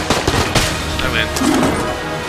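Rapid bursts of gunfire from the twin-stick shooter game Enter the Gungeon, several sharp volleys in quick succession, loud and close, with excited voices shouting over the shots.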